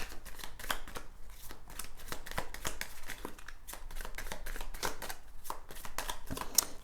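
Oracle cards are shuffled by hand in a quiet room, making a run of soft, rapid riffling and slapping bursts with an irregular rhythm and no talk.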